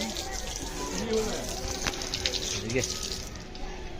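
Tap water gushing steadily at a washing spot in the Mahamaya temple at Ratanpur as people rinse hands and feet, a close continuous splash with voices talking over it.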